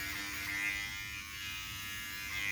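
A Voyor ES500 electric shaver buzzes steadily and close while shaving, a continuous whirring hum with a slight dip midway and no talk.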